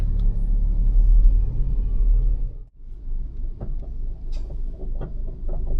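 A car pulls away from a PTT fuel station: a low engine rumble and idle, a brief dip, then the car moves off with scattered faint clicks and knocks around it.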